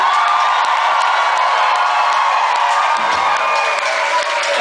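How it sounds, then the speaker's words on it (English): A concert crowd roars with cheering, whoops and scattered clapping for the support acts at a rock show at Indianapolis's Old National Centre, loud and continuous with no speech on top. "can we give a massive round of applause for both of the support acts on tonight"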